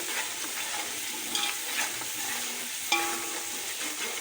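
Spices sizzle in a pan for potato and pea rice while being stirred, a close, steady frying hiss broken by a few soft scrapes and clinks of the spoon against the pan.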